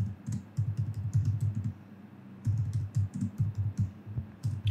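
Code being typed on a computer keyboard: quick bursts of close, clattering keystrokes in two runs separated by a short pause, with no voices.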